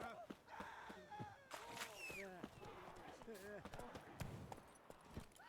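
Hooves of Roach, a horse in The Witcher 3, clip-clopping in an irregular trotting rhythm at close range, with a voice and other game sounds mixed in.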